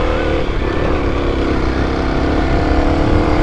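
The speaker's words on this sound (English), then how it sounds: "Second gear, full throttle," A Kawasaki KLX250 motorcycle held at full throttle in second gear gives a loud, steady engine drone that stays close and constant throughout, with no voices over it.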